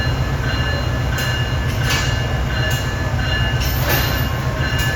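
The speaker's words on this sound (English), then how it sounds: "Just like that, there goes the electric locomotive." An Amtrak electric locomotive uncouples and pulls away from the train, a steady low rumble with rail noise and faint squeals heard nearby, continuous throughout, with no talk.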